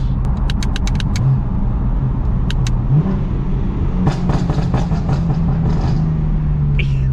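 A BMW Z4 engine drives past, a steady loud roar with rising pitch sweeps as it accelerates nearby, with no talking.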